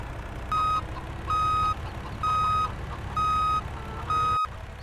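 A delivery truck in a farming roleplay video game sounds five evenly spaced reversing beeps over a low engine rumble, steady and moderately loud.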